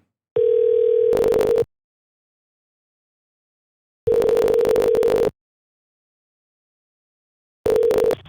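A steady telephone dial tone sounds at the start, then loud, identical bursts of ringback tone repeat at long even intervals with silence between them.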